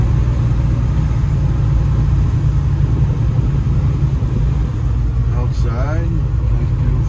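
The engine of a 1966 Chevrolet Chevelle rumbles with a deep, steady low throb as the car rolls out of a building, close and loud, with a brief voice near the end.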